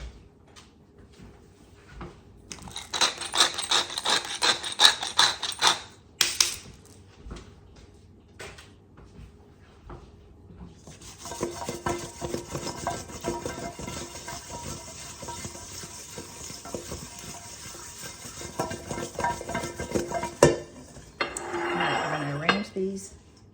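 Mushrooms being tossed with a little pepper in a bowl, giving clattering, scraping kitchen sounds in two bursts of handling, close and fairly loud, with brief pauses between.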